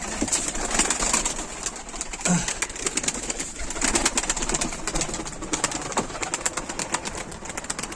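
Soft cooing of tumbler pigeons repeats amid a steady background rustle and hiss, with occasional low coos standing out briefly.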